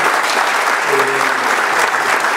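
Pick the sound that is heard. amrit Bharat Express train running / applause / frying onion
applause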